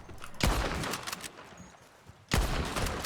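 Two sharp, loud gunshots from Red Dead Redemption 2, fired as a headshot, sound about two seconds apart. Each blast leaves a lingering rumbling tail.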